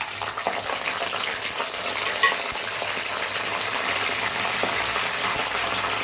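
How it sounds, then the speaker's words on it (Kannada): Curry leaves fry in hot oil, giving a steady, close sizzling hiss with a few faint crackles and pops through it, and no talking. "ನಾನು ಮೊದಲಿಗೆ ಕರಿಬೇವಿನ ಸೊಪ್ಪು ಹಾಕ್ತಾಯಿದ್ದೀನಿ."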